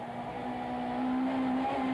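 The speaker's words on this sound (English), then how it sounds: "The chase is on as the cars go steaming down the back straight." Touring cars, including BMWs, race down the back straight at Killarney in a 1994 South African Touring Car Championship round, a steady high engine drone with rising pitch heard from a distance, with no talk.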